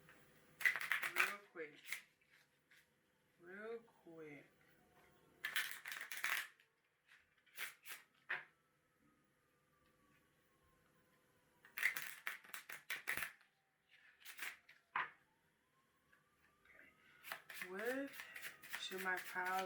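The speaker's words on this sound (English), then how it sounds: "let me shuffle this up" A deck of cards is shuffled in several brisk, crackling bursts, close by, alternating with a person talking between them.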